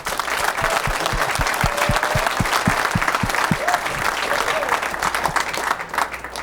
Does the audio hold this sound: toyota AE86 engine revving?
no